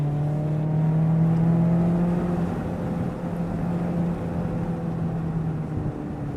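A Mazda Miata ND3 engine on a race track, held in third gear: a steady, loud, close drone with slowly gliding pitch, no gear changes, and wind and road noise underneath.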